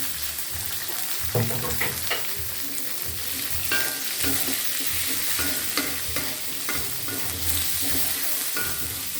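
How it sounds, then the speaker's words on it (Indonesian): Red, green and bird's-eye chilies fry with galangal in a pan, stirred with repeated scrapes and clatters over a continuous sizzle, and no one speaks. "Kita tumis sampai cabenya agak layu."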